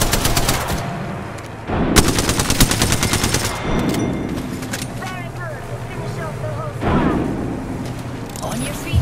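Automatic gunfire in the battle royale game Apex Legends, rapid bursts of shots coming in several volleys with distant firing between them, while voices speak over the action.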